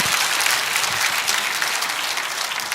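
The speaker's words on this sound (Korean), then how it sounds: "박수." Steady, dense applause from an audience at a nationwide joint Sunday worship service, sustained and loud throughout with no one speaking over it.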